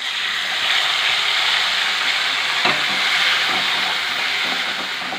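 Tomato paste sizzling in hot oil with ginger paste, a steady loud fry hiss with occasional scraping stirs from a spoon, cooking potato curry for luchi aloor dam.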